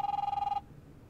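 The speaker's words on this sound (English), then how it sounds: "Answer the phone." A telephone rings in the video game The Wolf Among Us, giving a steady electronic trill with fast pulsing that stops abruptly partway through, leaving quiet room tone.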